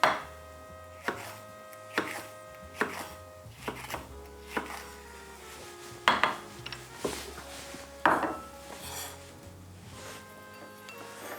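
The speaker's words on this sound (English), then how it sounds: "Here we have some jalapeños, a smaller, more pungent and spicier green pepper. We're going to slice them thin." A knife cuts thin slices of jalapeño peppers on a board, producing crisp, evenly spaced chops over a low steady background hum, close by and with no one talking.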